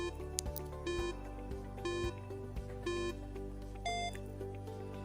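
A quiz countdown timer runs during a Grade 4 math lesson: a steady electronic pulse with bright beeping tones recurring about once a second, alone and moderately loud.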